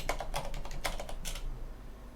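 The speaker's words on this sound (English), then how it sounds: "it's gonna be a lot of typing." Close, quiet clatter of fingers on a computer keyboard, a quick burst of several keystrokes in an uneven rhythm, then fading to near silence.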